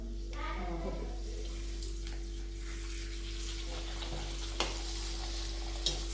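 Hot oil frying in a pan, a low steady sizzle with faint bubbling and a few soft clinks, alongside a constant electrical hum.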